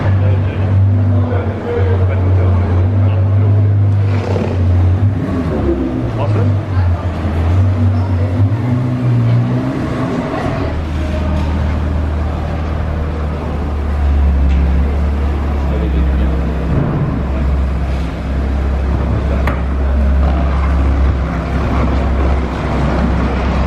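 Cars leaving a car meet: a continuous loud low engine rumble with shifting pitch as vehicles pull away, overlapping revs and passing drones, captured close with wind buffeting the microphone and a person talking over it.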